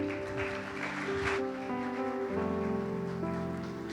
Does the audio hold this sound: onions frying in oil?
no